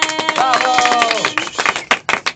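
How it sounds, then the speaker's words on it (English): Audience clapping at a vacuum cleaner convention in downtown LA, a burst of applause mixed with loud voices and whoops, tapering into scattered claps near the end. "All right, let's clap them in."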